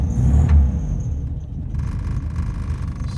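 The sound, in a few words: 1969 Volkswagen Beetle rear engine running loudly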